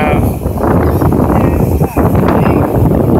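Steady wind at a clear-water beach buffets the microphone with a loud, continuous low roar that barely varies over a few seconds.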